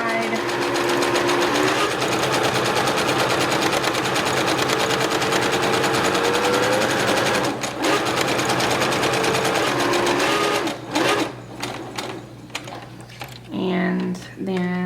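Sewing machine stitching down the edge of a fabric mask, a steady rapid mechanical rattle running loud for about ten seconds with brief pauses, then stopping as a voice talks.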